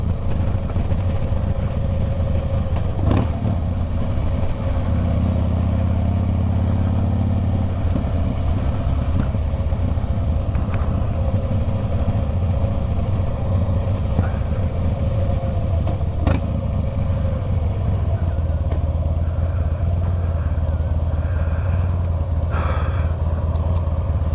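A motorcycle engine drones steadily while riding in fourth gear, a constant low rumble with wind noise and occasional clicks and clatters, close and continuous throughout.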